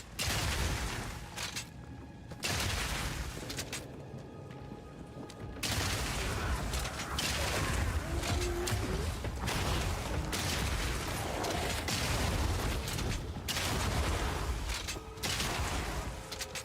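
Grenade and rocket launcher skill firing in Path of Exile 2 with a Mercenary bazooka build: a loud, dense barrage of booming blasts and rapid gunfire-like bursts, nearly continuous apart from short lulls near the start.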